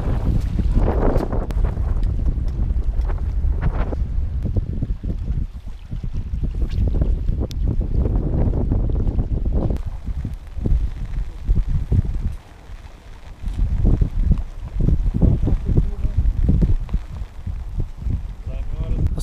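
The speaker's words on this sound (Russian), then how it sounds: "Поднялся сильный ветер" Strong, cold gusty wind after rain at an outdoor feeder fishing competition buffets the microphone in heavy rumbling bursts, dropping briefly before surging again, with a voice talking at times.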